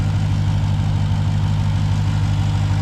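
A 2021 Dodge Durango SRT Hellcat engine idles steadily with the hood open, a deep, even low rumble that stays loud and constant with no voices over it.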